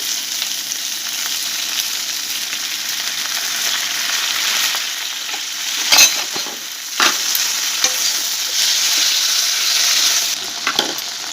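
Tomato sauce and soy sauce sizzle steadily in a hot pan while chilli mushroom cooks, a continuous bright hiss with a few louder stirring scrapes and spatters; no one talks.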